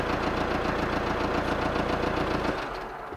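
A salvage Audi A5 engine running at a steady, even idle with a rhythmic mechanical pulse, close and loud, then dropping off sharply near the end as the engine settles or shuts down.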